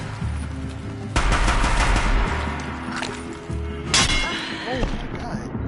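Gunfire in Horizon Zero Dawn, a few heavy close bursts that crack and boom loudly, with a long rumbling tail after the first, while a voice talks during the fight.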